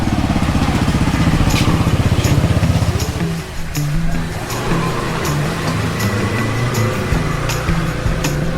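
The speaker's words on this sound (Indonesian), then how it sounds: "Kenapa lagi lah nih motor?" A troubled motorcycle engine putters loudly nearby in a steady pulsing rhythm, then falters and dips before it carries on running unevenly.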